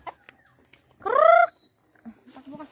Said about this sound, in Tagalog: Ito si Tandang palagi nakakalabas